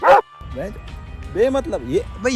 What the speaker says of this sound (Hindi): पीछे जो कुत्ता भौंक रहा ना